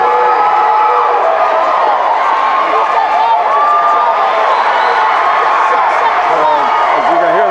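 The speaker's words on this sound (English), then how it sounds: "As you can hear the crowd in the background," Crowd noise at a district high school wrestling consolation match in 2000, a continuous loud roar of cheering and shouting voices that fills the whole stretch.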